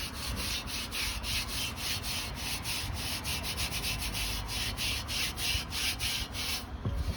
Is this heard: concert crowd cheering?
no